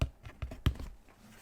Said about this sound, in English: that's the sound of me tapping the belt